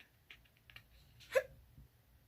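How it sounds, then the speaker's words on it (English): A single small hiccup from a person, sharp and close, heard after a few soft taps against quiet room noise. "Hiccups."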